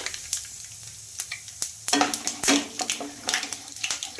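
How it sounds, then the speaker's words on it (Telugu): Urad dal, chana dal, cumin and mustard seeds frying in oil make a close, crackling sizzle broken by frequent sharp pops and clicks in an irregular rhythm, with no voices. "అలాగే కొద్దిగా మినప్పప్పు ఇంకా అందులోకి జీలకర్ర ఆవాలు వేసేసుకోవాలి"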